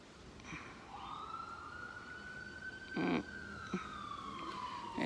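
An emergency vehicle siren wails in a long rising-and-falling sweep at moderate distance, with a couple of brief louder bursts partway through and steady background noise, no talking.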